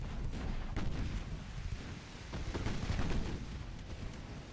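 Heavy booming impacts of torpedoes striking a warship in the naval game Ultimate Admiral Dreadnoughts, dense rumbling explosions rolling together over a few seconds, loud and low.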